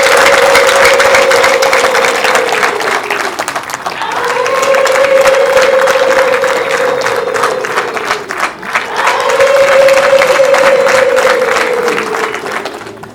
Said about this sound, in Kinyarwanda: umuryango mugari wese w'umwana munize amashyi